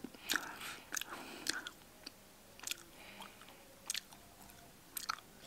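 Raw wild lingzhi mushroom being chewed and bitten close up, a handful of short crunchy bites and chewing bursts spaced through the moment, with quiet pauses between them and no talk.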